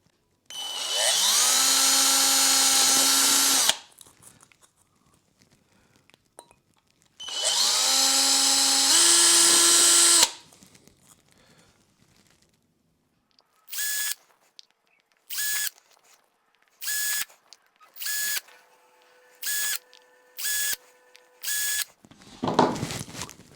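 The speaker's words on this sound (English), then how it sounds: "once I've drilled all the holes and just run it round the rim" An electric drill bores holes around the rim of a penny stove made from Coke cans, first in two long high whines of several seconds each. Then come a run of short, even bursts separated by brief pauses, loud and close, with no talk.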